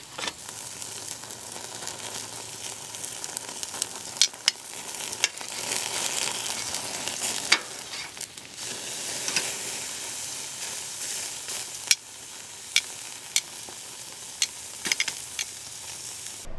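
Ribeye steak sears over a flaming grill, a constant close hiss and sizzle with scattered sharp pops and crackles from the fat, steady in level throughout, no talking.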